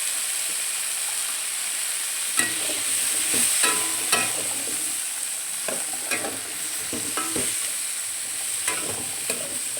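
Vegetables sautéed with salt, turmeric and chili powder for a Bengali tamarind crab curry give a steady close frying hiss, broken by repeated scraping stirs of a spatula through the pan.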